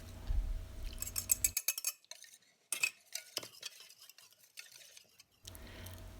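Irregular clinks and scrapes of a utensil stirring thick black sesame roll batter in a bowl, close up, with quiet pauses between strokes.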